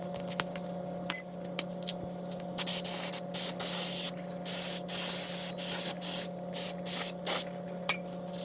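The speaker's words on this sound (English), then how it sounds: "you got to make sure you spray it off real well with brake clean and wipe it down before you put the rotor on" Brake cleaner is sprayed onto a new rear brake rotor during a brake job on a 2017 Mazda CX-5, a series of close aerosol hisses in short and longer bursts, with a few small clinks in between.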